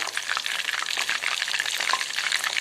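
Chicken lollipops frying in hot oil for a restaurant-style crispy dish, giving a steady close sizzle with crackling pops and a little stirring, and no voices.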